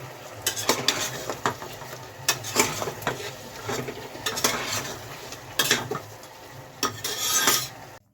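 Mutton being sautéed in a pan, with a steady sizzle under repeated rasping scrapes and clinks of a spatula stirring the meat. The strokes come in irregular bursts, close and fairly loud, and no one speaks.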